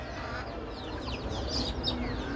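Farm chickens cluck in a coop during rainy weather, a close flurry of overlapping clucks and chirps over a steady background hiss.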